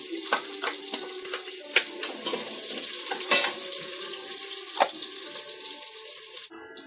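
Ginger and onion sautéing in a pan for chicken arroz caldo, a steady loud sizzle with a few sharp spatula knocks and scrapes, ending abruptly near the close.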